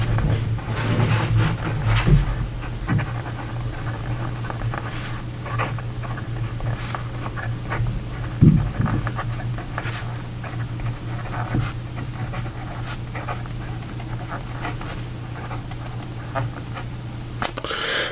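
A fountain pen with a Jowo nib scratches softly across paper while writing a sample, faint intermittent scritching over a low steady hum, with occasional light knocks and no talk.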